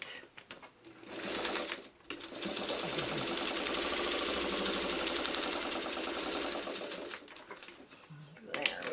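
A sewing machine stitches an iris quilt block in one long steady run of rapid mechanical whirring, loud and close, with a short burst before it and talk before and after the run.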